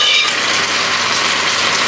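Cooked lamb hits a hot pan of roasted spices and sets off a steady, loud, hissing sizzle that continues evenly without a break.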